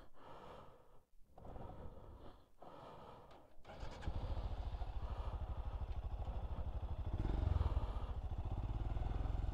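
Royal Enfield Scram motorcycle being ridden on Welsh lake and mountain roads, a steady close engine drone that builds after a few seconds of wind and movement noise, rising briefly near the end.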